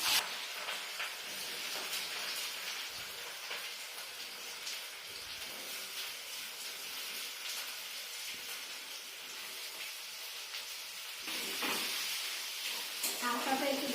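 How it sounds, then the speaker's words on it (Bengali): Onions fry in hot oil for pasta, giving a soft, continuous sizzling hiss with faint crackles, quiet and close, swelling slightly near the end. "এই যে আমি পেঁয়াজটা ভেজে নিচ্ছি।"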